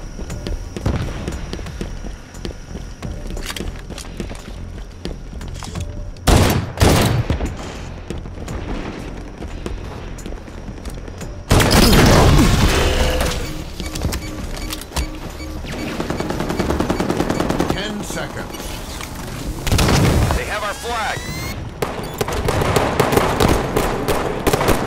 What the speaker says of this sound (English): Sniper's gotta reload. Shots and a grenade.